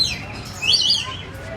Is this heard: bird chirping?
yes